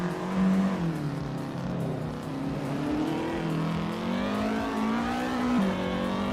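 A 1950 BRM Type 15 race car engine in a racing video game, a loud, steady revving drone that shifts pitch as it accelerates and holds throughout with no talk.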